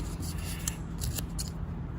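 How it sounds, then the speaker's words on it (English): Scissors snip through adhesive material in a few crisp, close cutting strokes with a light rubbing rasp between them, alone without speech. "So my other option is to attempt to cut it with the scissors"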